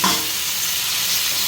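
Tomatoes and coriander sizzle in a hot pan with onions, a steady, loud hiss of frying with a faint stir at the start, and no voices.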